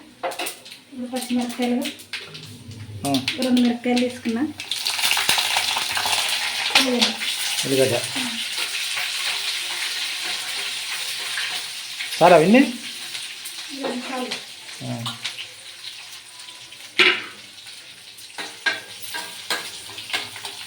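Garlic and onion sizzle steadily in a hot pan while being stirred, with metal spoon scrapes and clinks against the pan over a continuous frying hiss, and someone talking over the cooking at the start.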